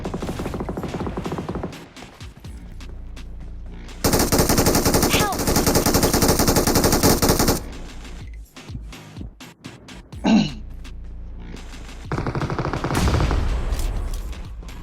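Bursts of machine gun fire in the PUBG Mobile (BGMI) battle royale game, loud sustained volleys with shorter rattling bursts in between, close and dominant, with no talking.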